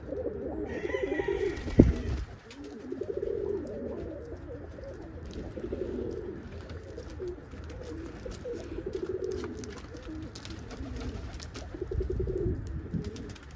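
Fantail and roller pigeons cooing on a rainy Christmas Day, soft low repeated coos with steady rain-like hiss behind them and a sharp knock near the start.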